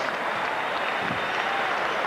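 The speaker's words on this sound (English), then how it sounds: "a round of applause for Vassiliy Jirov and Baby Joe Mesi" A boxing arena crowd applauds after a ten-round heavyweight fight, a dense steady wash of clapping filling the hall, with no clear talking.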